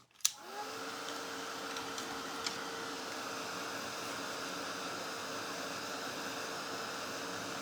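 A dryer blows air over freshly painted Santa suit decorations, switching on with a click and then holding a steady, even whoosh with a faint whine, close and alone.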